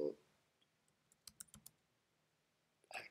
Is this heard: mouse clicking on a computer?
yes